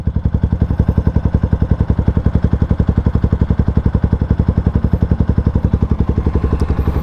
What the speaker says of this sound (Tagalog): So ito ang tunog niya kapag ka naka-idle.